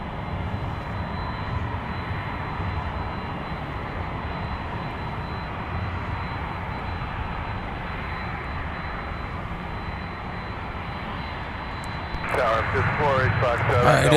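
A Delta airliner taxis toward the runway at MSP airport, its engines giving a loud, steady roar heard from outside, with a voice briefly audible near the end.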